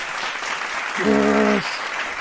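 Applause sound effect at an award show, a short cheering burst of clapping with a harmonic horn-like swell in the middle, played loudly over a steady background.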